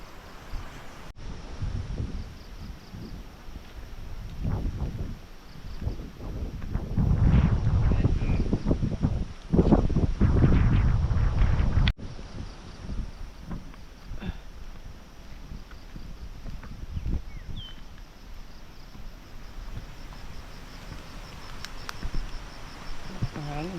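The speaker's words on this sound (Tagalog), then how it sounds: "Grabe yung lakas ng hangin talaga." Strong wind roars and buffets the microphone in heavy gusts, loudest midway, with rushing noise throughout and no clear talk.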